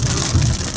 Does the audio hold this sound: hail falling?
yes